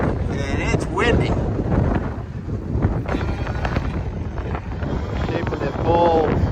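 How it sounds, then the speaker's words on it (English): Gusty wind buffets the microphone in loud, rumbling waves, with faint voices and distant activity underneath. "And it's windy."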